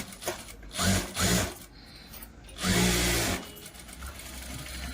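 Sewing machine stitching pointed stitches on a blouse band, with two short motor bursts followed by a longer run of stitching, steady and close.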